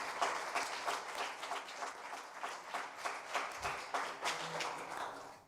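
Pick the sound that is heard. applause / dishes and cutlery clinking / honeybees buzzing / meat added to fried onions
applause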